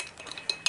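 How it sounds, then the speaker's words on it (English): A metal spoon stirring hot water inside a plastic MRE pouch, a few quick light clinks and scrapes close up over a soft rustle, with no talking. "And let's get our spoon, give that a little stir"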